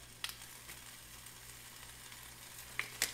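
Ham and turkey seasoned with salt and pepper warm in a pan, giving a steady, faint, close sizzle throughout, with a few brief light clicks near the end and no talking.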